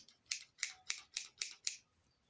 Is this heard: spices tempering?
no